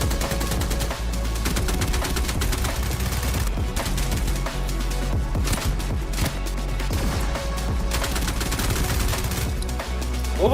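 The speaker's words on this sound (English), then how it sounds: "See, Gunshots." Rapid gunfire from a video game trailer, dense bursts of shots layered over music and effects, loud and continuous throughout.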